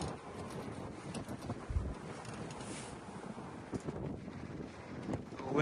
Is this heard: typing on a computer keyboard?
no